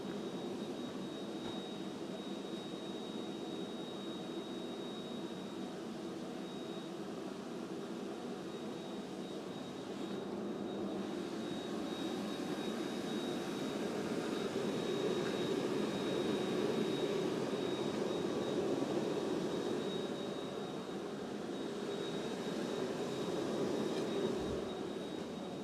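A forge blower feeding a ribbon burner roars in a steady, broadband rush that holds for the whole stretch, swelling slightly midway, with no talking.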